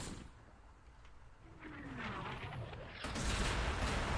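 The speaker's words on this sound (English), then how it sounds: "There's that barrage." An artillery barrage in the Close Combat: The Bloody First war game rumbles with dense low booms that swell louder toward the end, with a faint whistle overhead.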